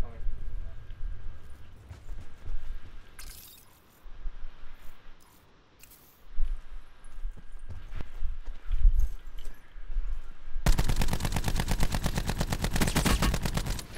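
Gunfire in Call of Duty: Black Ops 4, with scattered shots and movement early on, then a sustained burst of rapid automatic fire toward the end, loud and close, mixed with game sounds.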